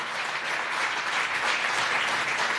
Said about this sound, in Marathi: म्हणून पुन्हा एकदा जोरदार टाळ्या वाजून त्याला धन्यवाद देऊया.